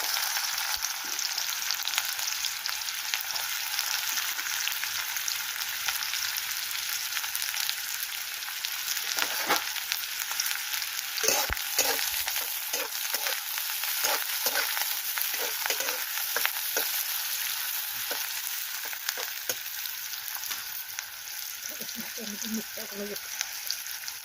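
Onion and garlic fry in oil in a pan, a continuous loud crackling sizzle lasting throughout, with scattered sharper pops and occasional stirring.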